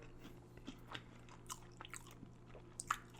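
Someone chewing a beef patty with Walkerswood pepper sauce: faint, close, irregular soft crunches and wet bites over a few seconds, with no talking.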